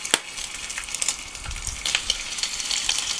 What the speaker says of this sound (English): we're going to put in our bacon